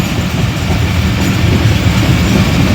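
An Awam Express passenger train in Pakistan runs on the rails with a loud, continuous rumble and rattling clatter of wheels over track, heard close and steady throughout.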